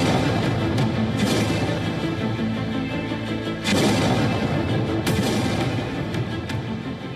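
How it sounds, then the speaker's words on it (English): Explosions from missile interceptions in the sky over Dubai at night, heard as a continuous rumbling barrage with several sharp booms and cracks rising out of a dense, loud low roar. "Dubai, a city known for luxury, tourism and global business, is suddenly shaken by the sound of explosions in the sky."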